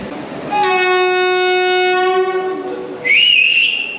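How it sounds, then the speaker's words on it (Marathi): A train horn sounds at a station on a Mumbai to Gokarna rail journey. It is a loud, steady blast of about two seconds, and after a short pause a second, higher-pitched horn follows. "गाडीने हॉर्न वाजवलेलं आहे"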